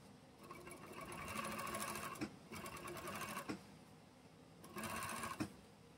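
An overlock sewing machine running after its looper thread tension is adjusted: three faint bursts of rapid, buzzing stitching separated by short pauses.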